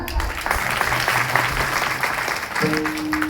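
An audience at a devotional kirtan gathering claps continuously in a dense, steady burst of applause that fills the whole stretch, with a brief drone-like tone entering near the end.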